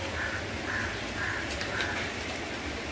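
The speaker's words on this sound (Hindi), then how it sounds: "कौवे में मछलियां पकड़ रहे हैं" Crows caw a few times at a distance over a steady outdoor wash of noise by a river, the calls faint and scattered as they catch fish.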